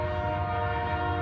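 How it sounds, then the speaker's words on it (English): A passing train sounds its horn in one long, loud, sustained chord that holds steady throughout, heard outdoors near a lawn with no one talking over it. "We'll let the whistle go by"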